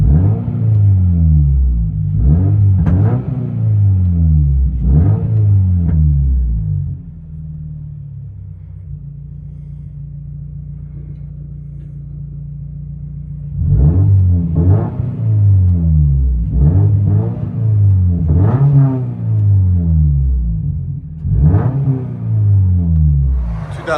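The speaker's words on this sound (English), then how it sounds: "2023 Subaru BRZ. Mid resonator delete and rear muffler delete, stock tips." Cabin view of a 2023 Subaru BRZ 2.4L flat-four with mid resonator and rear muffler deleted on stock tips: loud repeated revs rising and falling, then a steady droning idle for several seconds, then another run of sharp revs.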